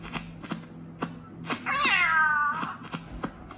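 A cat in the Ice Scream horror game gives a single clear, drawn-out meow in the middle, with soft clicks and thumps of game noise around it.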